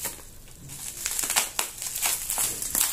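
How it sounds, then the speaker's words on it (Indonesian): Crinkling of bubble wrap packaging as a small parcel is unboxed, with irregular crisp rustles and crackles that grow louder and busier toward the end, close by with no talking. "Ada bubble wrap-nya."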